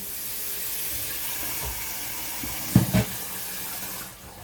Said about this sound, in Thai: ขอแช่อุปกรณ์แป๊บหนึ่ง